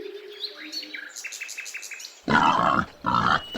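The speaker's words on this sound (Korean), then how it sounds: "wild boar" A wild boar lets out two rough, loud grunts in quick succession, cutting in after a spell of light forest birdsong.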